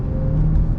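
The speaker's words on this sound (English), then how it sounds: "And you can hear this car, listen." A car passes on the road, heard from inside another car during a driving lesson. It makes a steady, low engine and tire rumble with a faint whirring hum, and no one talks over it.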